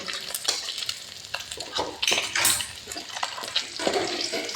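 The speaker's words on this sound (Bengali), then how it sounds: "আমার মাছ ভাজা হয়ে গেছে ভালো করে ভেজে নিয়েছি" Small puti fish frying in oil give a close, bubbling sizzle, broken by irregular stirring and scraping bursts from a spatula, with no voices.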